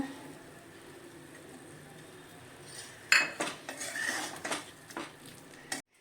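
Cauliflower curry served from a pan onto a plate, starting with a quiet low hum, then a burst of close metal clinks and scrapes of a spoon against the pan and plate over a few seconds.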